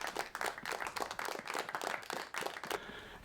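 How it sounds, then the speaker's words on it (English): Steady applause with dense overlapping claps from a crowd, moderately loud throughout, ending with a brief sharp noise. "all of you have some applause for showing up"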